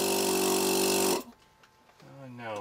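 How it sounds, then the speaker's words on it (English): An electric car's power brake vacuum pump runs loudly with a steady, dense mechanical drone for about a second, then cuts off abruptly, leaving quiet background and a brief voice near the end. "Pump seems to work fine."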